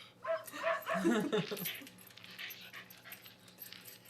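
A dog gives a few short yips and whimpers close by, mixed with soft voices and background noise.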